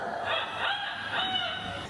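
A parrot-like bird at a bird park mimics a rooster's crow, a stretched, wavering call rising and falling twice, moderately close with no talking.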